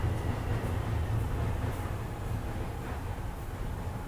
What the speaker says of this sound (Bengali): এই যেখানে উপর দিয়ে ট্রেন যাইতেছে